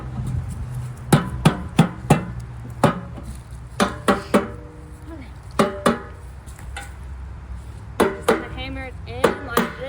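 An aluminum raised garden bed panel is hammered into place with sharp, loud metallic strikes that come in irregular clusters of quick blows, separated by short pauses.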